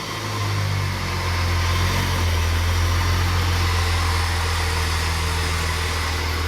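A supercharged car engine running 10 pounds of boost with an updated memcal idles close by, a steady, loud, deep rumble with an even hum that holds throughout.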